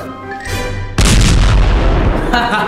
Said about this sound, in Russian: Получайте чесночную гранату.